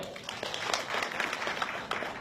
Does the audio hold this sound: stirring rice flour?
no